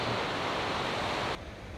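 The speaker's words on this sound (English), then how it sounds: "there's the waterfall going off" Waterfall pouring near a glacier lake: a steady, loud broadband rush of falling water fills most of the clip, then drops abruptly to a quieter, duller roar.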